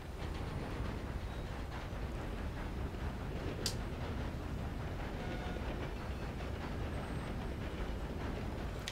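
Train rolling on rails in the Red Dead Redemption 2 video game, heard as a quiet, continuous rumble with faint rhythmic clatter and one brief high metallic squeal midway.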